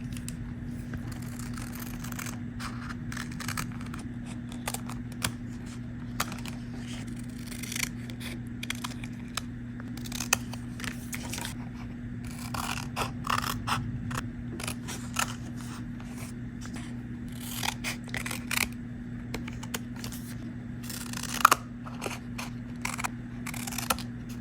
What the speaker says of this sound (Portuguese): Agora vamos cortar.